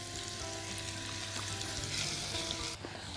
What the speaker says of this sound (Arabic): هناخد بقى دلوقتي البسله والجزر نحطهم على البصله بعد ما اصفرت اهي